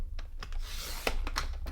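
A paper trimmer slices scrapbook paper into a border strip about three-quarters of an inch wide, giving a short, soft scraping rasp with a few light clicks, close by and with no talking.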